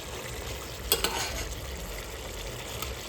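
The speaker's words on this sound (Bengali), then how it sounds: "না ঢেকেই কষাবো একদম ফুলে যাচ্ছে দেখেছো মাংসগুলো" Chicken pieces being sautéed uncovered in a pan with whole spices, giving a steady close sizzle with a few sharp clinks of a stirring utensil near the start.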